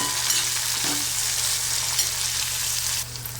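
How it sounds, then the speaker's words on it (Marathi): Chopped tomato and ghevda beans stir-fried in a pan for a dry sabzi, giving a steady loud sizzle with light scraping from the stirring that eases off near the end. "टोमॅटो घातल्याच्या नंतर पुन्हा हे सगळं परतून घ्यायचं आहे आपल्याला।"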